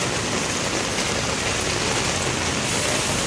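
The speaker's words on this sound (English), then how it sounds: "so it's really a heavy rain." Loud, unbroken roar of heavy typhoon rain pouring down, close and steady with no voices.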